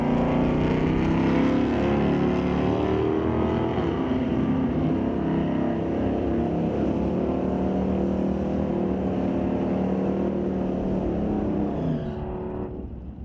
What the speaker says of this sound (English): back in his Fox Body GT Mustang, 1990 Ford, with a 1343 dial, lined up next to Ryan Ledret's 71 Chevelle